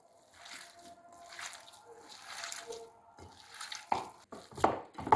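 Hands knead a seasoned mixture for kaytaz börek in a bowl, producing soft, faint wet squishes and slaps that grow a little louder toward the end.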